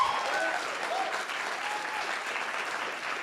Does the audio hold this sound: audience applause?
yes